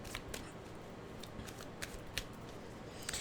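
Tarot cards being shuffled by hand produce faint, quick riffling clicks and soft snaps at irregular intervals, quiet and close, with no talk.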